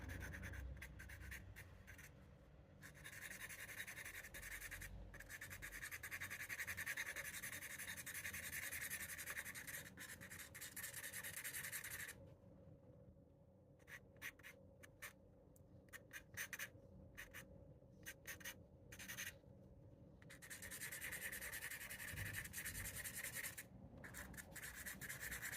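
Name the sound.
eraser rubbing on a pencil sketch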